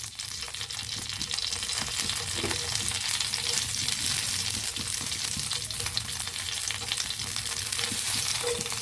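Oil heats in a hot pan on a gas stove and fries with a continuous dense sizzle, loud and close, spattering steadily throughout with no talking.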